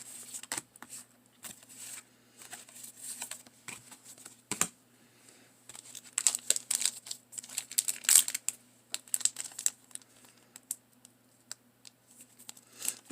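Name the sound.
opening Magic: The Gathering Kaldheim booster pack wrappers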